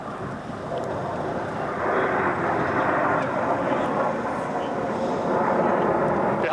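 Display team jets at the 1992 Boscombe Down airshow pull up into a loop, making a broad distant roar that rises and holds, with wind noise on the microphone and a commentator talking over it.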